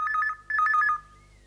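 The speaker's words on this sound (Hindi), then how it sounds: "लो हिम्मत, तुम्हारा फोन है। अस्पताल से आया लगता है।" A telephone rings in two short trilling bursts, clear and close, then falls quiet.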